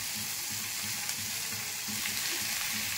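Tomato pieces fry in a pan after cashews, giving a steady, even sizzle with a soft bubbling pulse underneath, close and uninterrupted.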